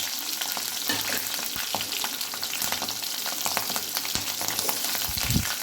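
Green chillies and ginger frying in hot oil after mustard seeds, a dense, steady close sizzle with frequent spatter crackles and occasional utensil taps throughout.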